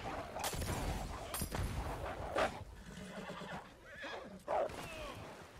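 A horse whinnies loudly in Red Dead Online, with hoof clatter and scuffling mixed into a busy game soundscape.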